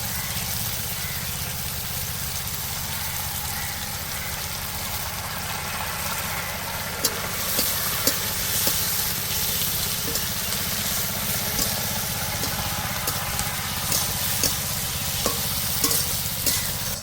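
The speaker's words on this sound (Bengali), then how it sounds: "পেঁয়াজ টমেটো আর রসুনটা ভালো করে ভেজে নেবো" Onion, tomato and garlic fry in a pan with a steady, loud sizzle throughout, a few faint scrapes and clicks of stirring rising over the constant crackle.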